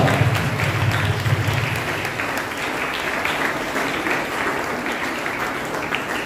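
A church congregation at Holy Mass claps loudly and steadily throughout, a dense wash of many hands near and sustained, with a brief low tonal hum at the start.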